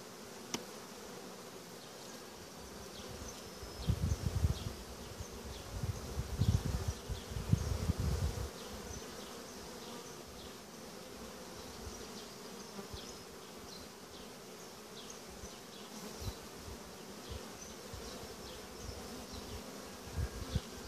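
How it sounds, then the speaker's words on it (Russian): Honey bees buzzing around a hive fitted with a queen cage, a continuous close hum with a louder, denser burst of wingbeats near the middle, plus occasional faint rustles and no talk. "Пчелки чуть-чуть поменьшило, стало меньше. Ну, какая-то часть слетела."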